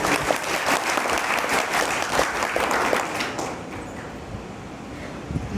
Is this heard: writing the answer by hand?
no